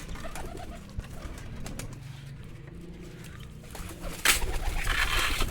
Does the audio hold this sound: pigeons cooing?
yes